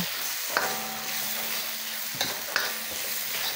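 Peeled, sliced shrimp and chayote sauté in a hot pan with a constant sizzle, broken by a few sharp clatters as the mixture is stirred. No one speaks.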